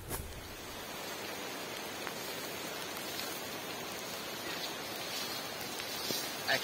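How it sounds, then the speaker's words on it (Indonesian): Steady rain falls on a foggy mountain trail near a summit, a continuous broadband hiss with soft patter from start to finish and no voices. "Hujan mulai turun lagi."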